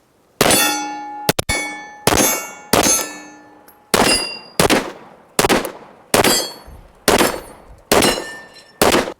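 Ten sharp gunshots from a Palmetto State Armory PSA AKV9 9mm carbine, fired at a steady pace outdoors, each loud crack ringing off with a metallic clang and a short decaying tail.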